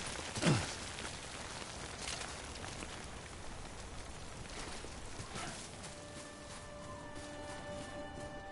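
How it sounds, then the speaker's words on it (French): Steady rain falls in the video game Death Stranding, a dense hiss of drops spread across the whole stretch with a few brief sharper splashes. "Et là il s'arrête de pleuvoir."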